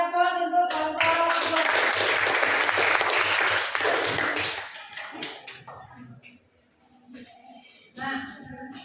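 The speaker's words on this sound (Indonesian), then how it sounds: "Beri aplaus untuk kelompok." Classroom applause for a presenting student group, a dense burst of clapping that swells for about four seconds and then fades, with voices speaking before and after.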